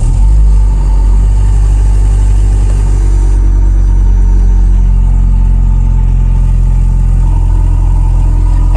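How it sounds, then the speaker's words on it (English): A Toyota Prius, fitted with newly fabricated engine mounts, runs its engine at a steady idle, a loud continuous low rumble close by with no talk. "I'll start the car up."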